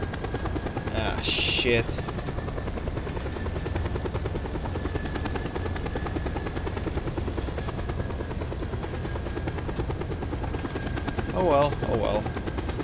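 A helicopter chases the player in the video game Just Cause 2, its rotor a loud, constant throbbing drone that runs throughout, with brief bursts of gunfire and someone talking over it.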